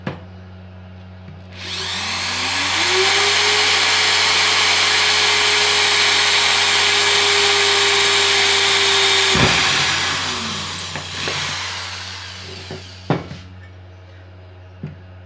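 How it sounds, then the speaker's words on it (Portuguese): A Bosch GSR 7-14 E corded drill drilling through a 50x30 metal tube, winding up to a loud, steady high whine held for about six seconds, then spinning down, followed by a few light knocks. "Vamos agora furar o metalon 50-30 na 18."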